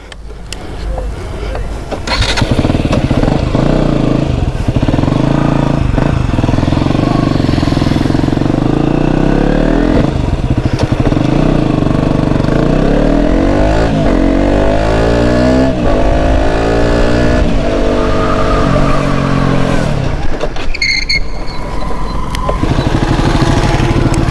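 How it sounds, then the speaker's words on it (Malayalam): A vehicle running an engine-braking stop test, its engine droning loudly and steadily at close range, pitch sweeping up and down as revs change, with someone talking over it. "എൻജിൻ ബ്രേക്ക് കൂടി ചെയ്യുമ്പോൾ എന്തുമാത്രം ഡിസ്റ്റൻസ് നമുക്ക് കുറഞ്ഞു കിട്ടുമെന്ന് നമുക്ക് ജസ്റ്റ് നോക്കാം"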